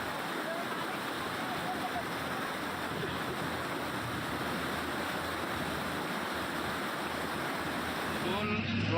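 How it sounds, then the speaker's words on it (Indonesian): Continuous broadband rush of river water flowing through a lahar channel after a flash flood, steady and loud throughout with no voices. "luapan air yang sekarang ini masih terus mengalir di aliran lahar itu"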